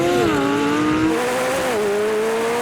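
Four supercars, a Ferrari 296 GTB, McLaren 750S, Lamborghini Huracán Performante and Porsche 911 Turbo S, launch hard off the line in a drag race, their engines a loud, sustained roar that rises and dips in pitch as they accelerate and shift.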